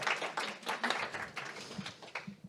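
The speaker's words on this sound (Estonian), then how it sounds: "palun võite teha juba Aarele aplausi selle eest, et ta tuli" Audience clapping for a speaker at a panel discussion on dairy calf rearing, a short, fairly quiet burst of applause from a small crowd.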